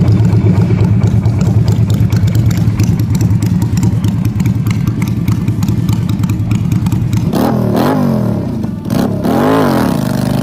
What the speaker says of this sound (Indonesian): Kalau kalian suka suara mesin yang berkarakter, motor ini bakal bikin kalian jatuh cinta apalagi di RPM rendah